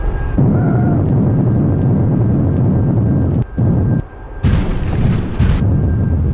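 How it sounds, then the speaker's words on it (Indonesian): A crashing-airplane sound effect for a toy plane: a loud roaring jet rush that holds steady, drops out briefly, then returns with a harsher, brighter blast before cutting off. "sepertinya ada pesawat jatuh"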